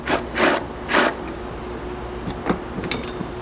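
A bracket bolt is loosened with a 10mm socket and ratchet on a 5th-gen Toyota 4Runner or Lexus GX 460, giving a few short rasping ratchet bursts up close, followed by quieter clicks and light metallic taps.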